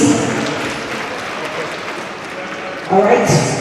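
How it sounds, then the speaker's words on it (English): Steady clapping from a conference audience runs throughout, with voices mixed in and a brief swell of cheering near the end. "A round of applause for him, please."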